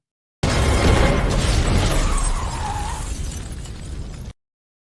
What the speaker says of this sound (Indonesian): Lalu muncullah dua orang pria yang langsung mengejar Harry dan meledakkan tempat tersebut.